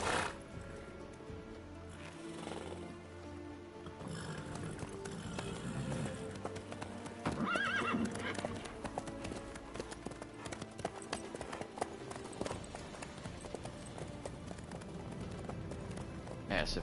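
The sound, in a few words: horse hooves cantering in The Witcher III video game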